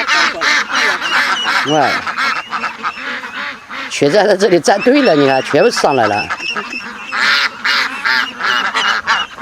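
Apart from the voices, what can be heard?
ducks quacking and geese honking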